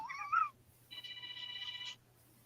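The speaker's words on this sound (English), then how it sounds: "Sounds like a phone ringing." An alarm rings like a telephone in a room, two short bursts of bright electronic tones with a gap between, moderately faint over a low steady hum.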